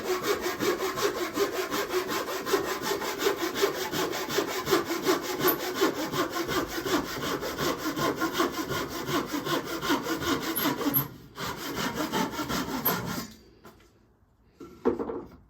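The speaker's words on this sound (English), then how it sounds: "he is sawing these old fence units" Steady back-and-forth strokes of a hand saw cutting through old wooden fence panels, loud and close, running continuously before stopping near the end.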